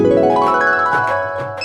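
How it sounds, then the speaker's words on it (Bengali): A short, bright musical phone ringtone from a cartoon plays as a quick run of clear electronic tones, loud and close, with no speech. "কিরে ফোন দিল কারা"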